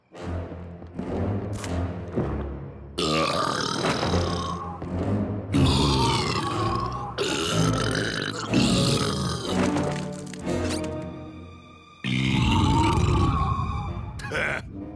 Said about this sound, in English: I challenge you to a burping contest, a musical burping contest